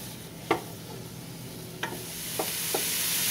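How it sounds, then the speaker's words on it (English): Onions and garlic sautéing in a pan give a steady low sizzle, with a few sharp utensil scrapes and taps against the pan scattered over the hiss. "Then you saute those 3 ingredients."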